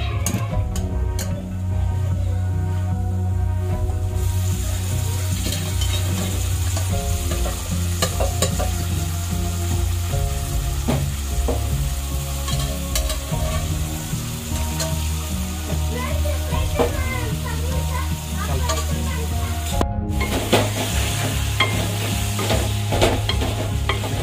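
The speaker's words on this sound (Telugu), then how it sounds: "తలకాయ కూర వేసేస్తున్నా" Goat head curry, Telangana style, frying and being stirred in a pan, with a steady loud sizzle and scraping stirs running throughout under background clatter.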